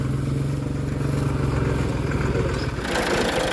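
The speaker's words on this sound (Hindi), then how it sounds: "अपने जी खेत में ट्रैक्टर जी लग चुका है" A tractor engine running in a farm field, a steady close mechanical chugging with a low rhythmic pulse that shifts slightly in tone near the end, with no talking.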